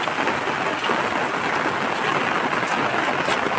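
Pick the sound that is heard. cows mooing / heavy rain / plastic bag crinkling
heavy rain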